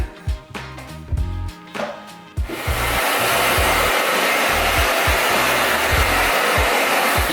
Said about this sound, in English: I'm gonna use my wife's hair dryer? Blow dryer?